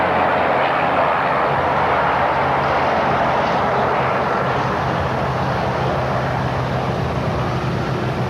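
Light propeller airplane, a Grumman able to burn auto fuel, droning steadily and loudly throughout at a ranch fly-in, with its engine and propeller noise unbroken and close.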